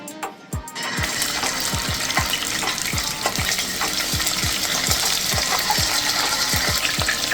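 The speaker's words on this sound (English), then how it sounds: "Once the oil is heated, now I'll add my chicken." Chicken wings going into heated cooking oil, breaking into a loud, steady frying sizzle dotted with sharp crackles and pops that carries on to the end, with no talk.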